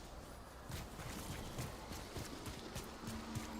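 Rapid clip-clopping horse hoofbeats run steadily over a busy, noisy Destiny 2 game soundscape, with a faint tone toward the end.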